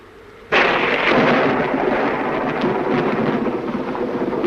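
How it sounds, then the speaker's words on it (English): A sudden loud thunderclap breaks during a thunderstorm, then rolls into a long, heavy rumble with rain hissing steadily underneath. "I love thunderstorms, don't you?"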